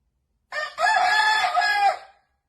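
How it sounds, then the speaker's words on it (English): A rooster crows once, loud and close, a single drawn-out call of about a second and a half with no other sounds around it. "That rooster's like, wake up, bitch."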